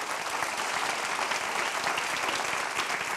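A church congregation breaks into sustained, even applause during a sermon, a thick continuous patter of many hands at steady loudness throughout.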